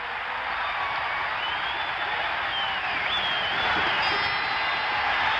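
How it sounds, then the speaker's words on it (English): A basketball crowd roars steadily in the Coliseum in Phoenix during a 1976 NBA Finals game, a dense, continuous wash of cheering and applause with no break. "Listen to the crowd, the Coliseum in Phoenix"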